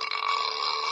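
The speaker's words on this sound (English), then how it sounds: "burp" A burp sound effect plays from a mobile sound-effects app as a single rough, buzzy belch lasting about a second, close and at an even loudness, with no talk.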